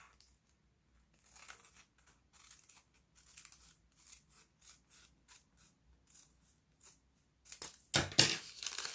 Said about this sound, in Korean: 잘라 보겠습니다.